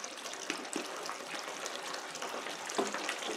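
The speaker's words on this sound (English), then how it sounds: "I just got some cool water here, and I'm going to mix it up in these grains" Cool water is poured and stirred into a bed of grains for a fresh corn mash, a steady wet sloshing and gushing with a few soft splashes.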